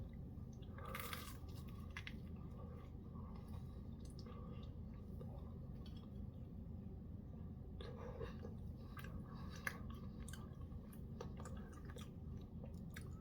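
Toast topped with tomatoes being chewed close up, with quiet crunching and moist squishy bites in two or three bursts over a low steady background hum, faint overall and without speech.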